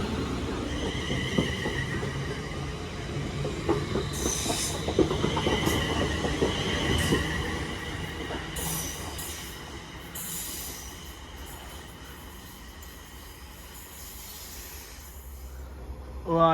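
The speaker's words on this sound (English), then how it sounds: "1044 West Midlands Railway service to Birmingham New Street from Shrewsbury" West Midlands Railway unit 196102, running from Shrewsbury to Birmingham New Street, pulls into a station with a loud rumble and sharp squealing wheels that slowly fade as it slows.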